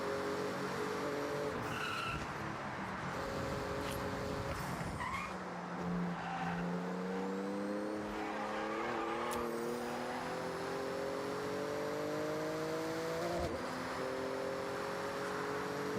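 A Porsche in a racing video game tears through a speed zone, engine note rising and shifting through gears with tire squeal and skids, loud and continuous for the whole stretch, no talking.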